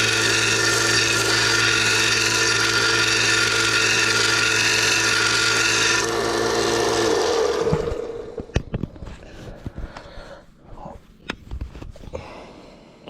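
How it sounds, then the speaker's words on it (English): A folding knife being sanded down to fit its blade, first as a steady loud power sanding whir that runs down after about seven seconds, then scattered scraping and handling noises. "So I'm just gonna have to sand it down a bit more."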